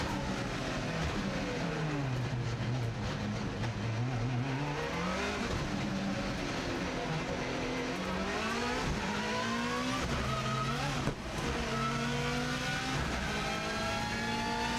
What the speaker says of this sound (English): we're now accelerating for the flying start